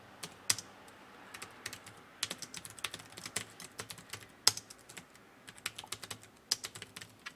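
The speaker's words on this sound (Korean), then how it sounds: "계속 타이핑 쳐주시고요." Steady typing on a computer keyboard while entering text for an ITQ Hangul exam exercise, a run of sharp, close key clicks in uneven bursts with occasional louder taps, no talking.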